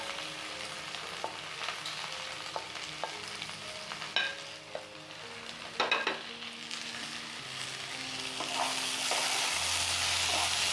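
Tomato and green chili sizzle steadily in a pan for a lady finger and potato fry, with scattered clinks and scrapes of stirring over a continuous frying hiss that swells toward the end.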